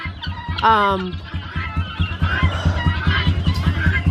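Guinea fowl in a fully enclosed pen give a rapid, rhythmic series of harsh clucking calls close by, with one brief higher squawk near the start.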